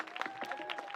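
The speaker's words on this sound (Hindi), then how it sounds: "ताली बजा जोरदार" An audience claps loudly at a folk comedy performance, a dense, steady patter of hands lasting about a second with no voices over it.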